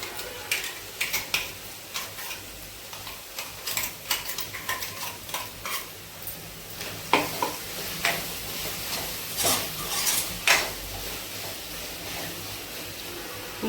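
Bottle gourd fried in oil with green chilli paste added, a steady soft sizzle with repeated scraping of a spoon stirring in the pan, close and fairly quiet, with no voices.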